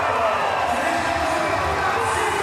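Arena crowd roaring and cheering at a Paralympic powerlifting session in Paris, a dense, steady wash of voices filling the whole short stretch with no single voice standing out.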